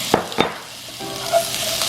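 Spiced shrimp stirred in a frying pan with onion powder, garlic powder and pepper: two quick scraping strokes, then a soft steady sizzle, close and alone.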